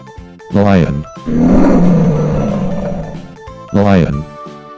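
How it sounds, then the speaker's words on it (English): A lion gives one long, loud, rumbling roar, framed by short musical notes and tones before and after, with no talking over it. "Lion."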